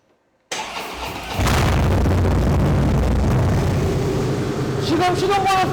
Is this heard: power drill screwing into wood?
no